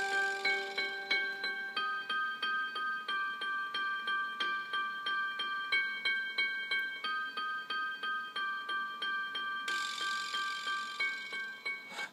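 Repeated piano chords strike in a steady pulsing rhythm, clashing and dissonant, bright and close, with no voices.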